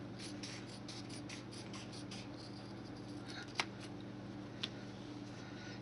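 Scissors snipping green craft foam into thin grass slivers, a series of quick, soft, close cuts at a brisk rhythm, with one or two sharper clicks and no talking.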